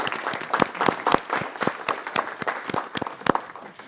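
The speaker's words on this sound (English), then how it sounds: "Please, a round of applause." Applause at a city council meeting as a visiting sister-city delegation stands: a room of people clapping steadily for several seconds, with loud, dense claps and a few sharp ones standing out.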